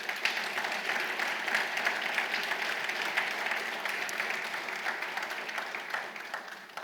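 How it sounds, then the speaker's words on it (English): Steady audience applause at a student of the year awards ceremony holds an even, full level throughout, dipping slightly just before it stops. "a round of applause for everybody"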